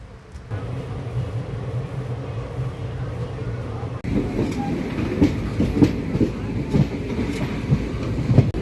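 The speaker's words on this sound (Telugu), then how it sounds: "గూడ్స్ ట్రైన్ కాదండి ప్యాసింజర్ ట్రైన్" A Raipur–Visakhapatnam passenger train rolls past on the tracks with a steady rumble that swells into rhythmic clattering wheels and metallic clanks, close and fairly loud.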